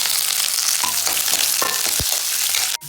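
Chutney ingredients, tamarind, onion, green chillies and curry leaves with lentils, sizzle loudly and steadily in hot oil in a pan, with faint stirring scrapes running through the continuous crackle.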